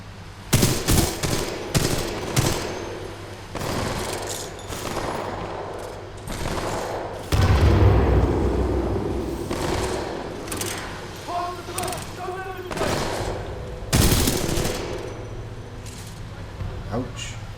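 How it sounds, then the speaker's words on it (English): Burst-fire rifle shots from the Hemlock in the Titanfall 2 campaign, sharp clustered reports repeating across the clip amid other battle sounds, with a voice talking now and then. "I think that's the burst weapon."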